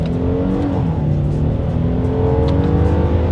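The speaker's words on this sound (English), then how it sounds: "let's go ahead and test out the paddle shifters and we'll see how quickly they react for us here." A 2021 Hyundai Palisade SUV pulls hard through paddle-shifted gears, its engine droning loud and steady with rising tones and brief dips at each quick upshift, heard from inside the cabin.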